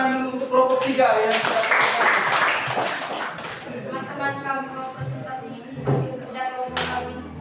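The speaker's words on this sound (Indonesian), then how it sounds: "Kita beri tepuk tangan untuk kelompok tiga ya." Students in a junior high classroom applaud a group in a brief burst of clapping, mixed with voices talking.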